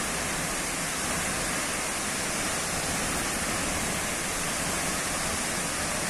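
Cachoeira da Jibóia waterfall pouring steadily, a dense, continuous broadband roar of falling water close by, unchanging throughout with no voices.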